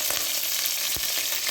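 Fenugreek and green chilies fry in hot oil for an okra tamarind curry, a close, steady sizzle with soft crackles and a few stirring scrapes running throughout.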